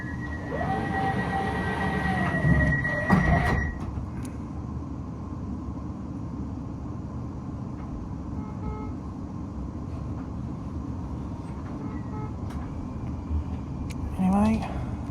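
West Midlands Railway Cross City Line train pulling away from Selly Oak on its run to Redditch, a steady low rumble and hum of the carriage throughout, with a brief horn-like tone near the start and a chime toward the end.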